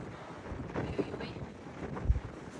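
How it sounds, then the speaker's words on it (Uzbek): Cold wind gusts across a balcony, buffeting the microphone as a rough, uneven rumble with a few stronger thumps. "Shamol."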